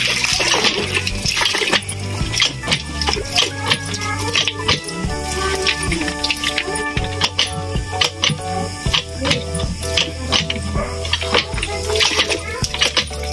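Strong gush of water from a newly installed home water supply, splashing and pattering steadily with metallic clinks, while people talk over it.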